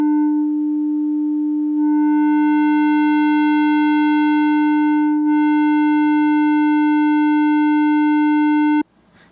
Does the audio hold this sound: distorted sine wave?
yes